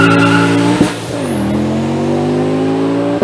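A five-cylinder car engine revs loudly and close, dipping briefly then climbing into a strong, steady, throaty growl with a high whine riding on top.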